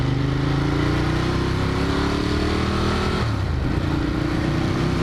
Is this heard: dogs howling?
no